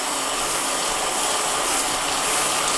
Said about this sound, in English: let's vacuum this up. When I go to full power, we'll see how it does